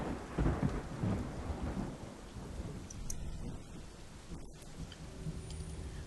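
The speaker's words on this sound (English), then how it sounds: "The rain gave me a terrible sense of foreboding, and it chilled me through my clothes." Steady rain falls in a video game scene, with a low rolling thunder rumble near the start and a constant wash of raindrops throughout, moderately quiet and with no talking.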